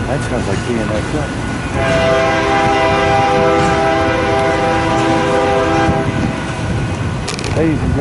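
A BNSF train passes close by in Fremont, Nebraska, sounding a long, loud, multi-tone horn blast over the heavy rumble of rolling wheels, with someone speaking nearby.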